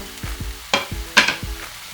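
Fried chicken cubes being stirred into red pasta sauce, with a few soft scraping strokes and wet squelches from a spoon against the pan, close and fairly quiet, and no talking.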